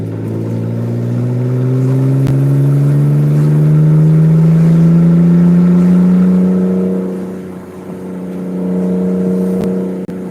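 BMW with a straight pipe exhaust pulls at full throttle, a loud, droning engine note climbing steadily in pitch for several seconds, briefly easing off, then holding high again, heard from inside the car.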